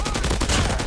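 A submachine gun fires in rapid bursts in a Call of Duty zombies game, a dense rattle of closely spaced shots, loud and continuous across the moment with no talking.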